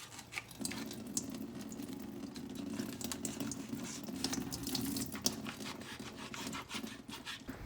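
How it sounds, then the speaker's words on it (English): Liquid from a package of soft tofu poured into a kitchen sink, a steady close splashing and trickling of water against the basin with occasional light clinks throughout. "Pour out the tofu liquids."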